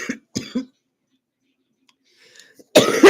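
A person coughs in short, close bursts, a couple of quick coughs, then a pause, then a louder hacking cough at the end.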